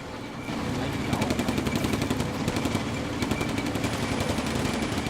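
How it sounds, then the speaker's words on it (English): Rapid bursts of machine gun fire in the video game Combat Mission: Afrika Korps rattle continuously in the background, targeting a tank crew, a steady staccato stream of shots under a dense wash of battle noise and explosions. "You can hear the machine gun in the background"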